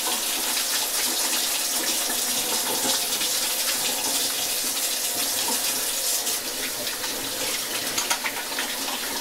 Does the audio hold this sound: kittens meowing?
no